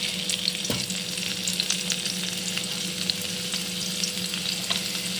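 Potatoes and cauliflower frying in hot oil in a kadai, a steady close crackling sizzle with occasional sharp pops and light stirring scrapes, no voices.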